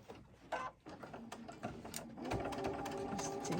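A sewing machine stitches a fabric seam in a quilting studio, running in short bursts with pauses as pins are pulled, then settling into a steady whirring run, fairly quiet and close.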